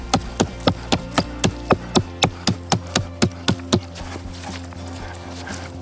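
An axe chops wood outdoors while a woodland A-frame shelter is being built, striking in a steady series of about fifteen sharp, loud, evenly spaced blows that stop near the end. No voices are heard.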